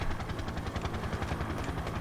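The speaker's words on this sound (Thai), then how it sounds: "ตามเฮลิคอปเตอร์ไป" A helicopter in the James Bond 007 Blood Stone video game gives a continuous rapid rotor thump and engine roar, loud and steady throughout, with no talk over it.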